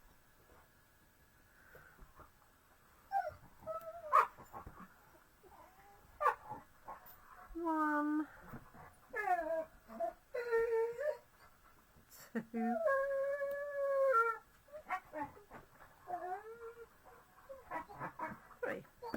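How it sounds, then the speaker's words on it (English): Dogs indoors whimper and let out long wavering howls in repeated drawn-out bursts, fairly close, while a person counts aloud and talks intermittently. "Sorry about the dogs."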